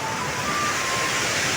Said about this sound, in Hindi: ये देख लो पीछे ना कैसे पानी गिर रहा है